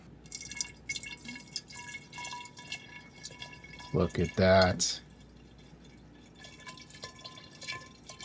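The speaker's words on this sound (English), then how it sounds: "we're going to fill this with some water and start shaking it up" Water poured without a funnel into a bottle for sparkling raspberry mead, a brief burst of splashy gurgling filling that rises loudly for about a second amid quieter room noise and a short spoken remark.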